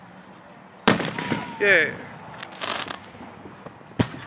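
Fireworks at a firework show burst with two sharp, loud bangs a few seconds apart, trailed by crackling pops, while people call out and talk nearby.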